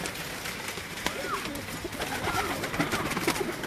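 Pigeons kept on a house rooftop in Islamabad, with soft cooing and occasional wing flutters against steady outdoor ambience and a faint voice in the background.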